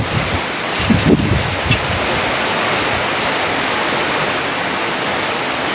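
Steady heavy rain roars outside a garage as a loud, unbroken wash of noise, with a few soft thumps early on.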